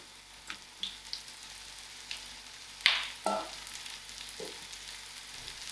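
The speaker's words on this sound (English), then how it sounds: "Adding my mushroom to the oil." Mushrooms fry in hot oil with curry leaves and green chilies, a soft steady sizzle broken by a few sharp pops and spatters, close and fairly quiet, with no talking.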